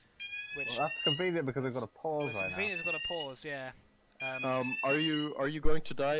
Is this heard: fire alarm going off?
yes